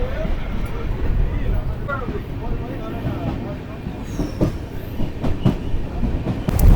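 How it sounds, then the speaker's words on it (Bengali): Train pulling out of Tamluk railway station on the new Howrah to Digha service: a steady, loud rumble of wagons with clicking wheels and a few sharp metallic ticks, heard from on board, with a voice talking over it. "এই মুহূর্তে আমাদের ট্রেন ছেড়ে দিল তমলুক রেলওয়ে স্টেশন থেকে"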